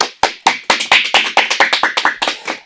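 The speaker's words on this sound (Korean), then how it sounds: "박수." A small studio group claps to welcome a guest onto a Korean talk show about planners: roughly a dozen quick, sharp claps, close and fairly loud, with no talking over them.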